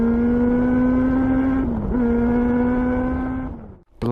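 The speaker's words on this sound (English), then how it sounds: "It's been ages since I've even ridden a carbed bike." A 2020 Honda CBR900RR Fireblade with a carbureted engine pulls away, its loud, steady engine drone shifting pitch briefly mid-ride, then cutting off sharply near the end.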